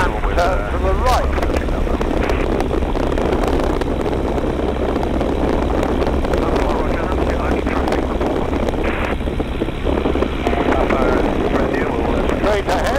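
A Tiger Moth biplane cruising near Duxford airfield drones steadily and loudly with its engine and rushing airflow, while voices talk over the noise inside the open cockpit.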